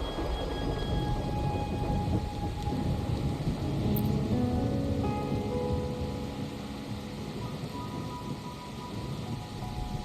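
Steady, dense rain pours with rumbling thunder in the background throughout, in the video game Wuthering Waves; the storm stays loud and continuous with no speech.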